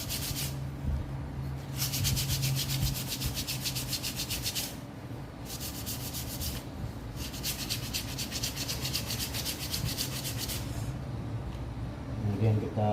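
Sandpaper rubbed back and forth along the central bone of a kite's lower wing to smooth away old binding thread, steady scraping strokes in bursts with short pauses, close and moderately loud, with low background rumble.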